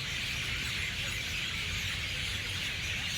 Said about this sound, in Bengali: এখন পাখিদের যা কিচিরমিচির আওয়াজ হচ্ছে তোমরা আগে শুনতে পাচ্ছ।